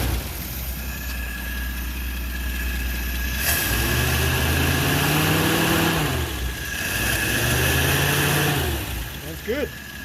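A Nash car engine, just repaired with an O-ring fuel fix, idles steadily up close, then revs up twice in rising-and-falling throttle swells before dropping back to idle, with a voice briefly heard.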